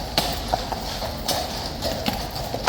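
Horses from the Horse Guards pass through a tunnel, their hooves striking hard ground in a steady, echoing clip-clop that sounds close and clear.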